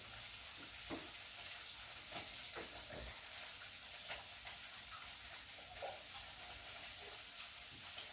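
Malabar spinach stems cook in a pan for a mixed-vegetable chorchori, with a faint, steady hiss of frying and occasional soft stirring scrapes, quiet and a bit distant, with no voices.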